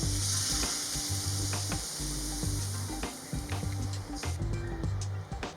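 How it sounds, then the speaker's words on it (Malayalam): Lemon pickle with dates, vinegar and water simmers over a low flame in a pan, giving a steady bubbling sizzle broken by repeated scraping strokes of a spoon, with no talking. "ഈ സമയം നന്നായിട്ടൊന്ന് ഇളക്കി യോജിപ്പിക്കുക"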